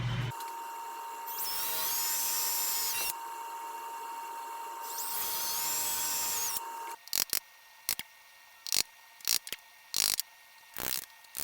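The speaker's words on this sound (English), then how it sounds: "I'm just going to clear out the rest with a forstner bit on the drill" A hand drill with a forstner bit clearing out wood for a headset holder: two sustained whirring bursts of drilling, then a series of short, sharp knocks and clicks, close and fairly quiet.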